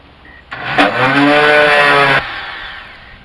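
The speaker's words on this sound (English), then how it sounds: "this oscillating tool here is probably what the doctor ordered to cut this" An oscillating multi-tool cuts into the interior panel of a 1980 Dodge D150 pickup, producing a loud, close, steady buzzing whine for about a second and a half before stopping abruptly.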